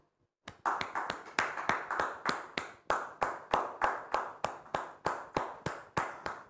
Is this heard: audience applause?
yes